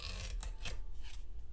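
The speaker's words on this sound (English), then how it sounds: "I find that pulling with the saw makes a cleaner cut." A hand saw draws through wood on the pull stroke at a workbench, giving a few short, soft rasping strokes that sound close and fairly quiet.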